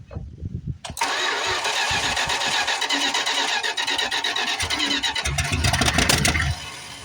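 A neglected 1973 Plymouth Fury III engine being brought back to life: the starter cranks briefly, then the engine catches and roars into a loud, rough, steady run close by, with uneven revs toward the end.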